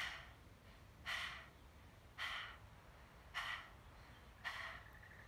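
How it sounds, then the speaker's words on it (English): Four quick, breathy pants spaced about a second apart, each a short airy burst with tongue out, fairly close and quiet over a low background hum. "kind of like panting like a dog."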